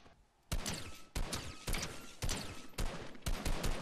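Bursts of gunfire in the video game Fortnite, loud and close, coming in repeated volleys about every half second with short gaps, no talking over them.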